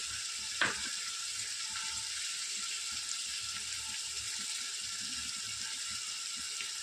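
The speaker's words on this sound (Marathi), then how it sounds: "आता आपण टाकत एक वाटी दही" Steady sizzling of roasted masala in a pan after a bowl of yogurt is added for mutton biryani, with one brief sharp hiss near the start, then an even crackle throughout.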